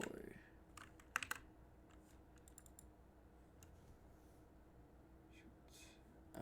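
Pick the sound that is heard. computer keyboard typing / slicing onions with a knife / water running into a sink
computer keyboard typing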